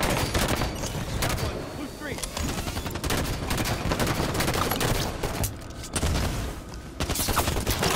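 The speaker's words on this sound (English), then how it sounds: "And then I got shot by Mr. Scattershot." Halo 5 Slayer multiplayer gunfire, loud near-continuous automatic weapon bursts with brief pauses, layered with game effects and speech.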